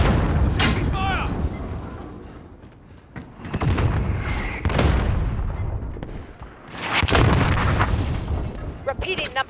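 Bursts of modern military gunfire and heavy booms in a Call of Duty: Modern Warfare (2019) battle, coming in loud surges with quieter gaps between them, mixed with radio chatter and voices calling out.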